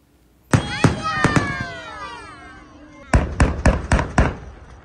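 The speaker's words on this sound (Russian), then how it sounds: "Салют после праздничного концерта" Sharp booming firework salute bangs burst out after a festive concert in Kaspiysk, Dagestan, a few spaced blasts, then a quick cluster of five or six loud cracks, with voices murmuring in between.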